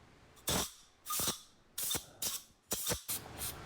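Short bursts of compressed CO2 hiss out in pulses to dry a Jeep brake part, about six quick blasts of air, close by and fairly loud against a quiet background.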